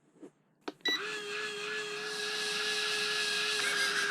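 A Tiny Whoop micro drone's tiny motors spin up on a desk after a couple of soft clicks, settling into a steady high-pitched electric whine that holds close and even.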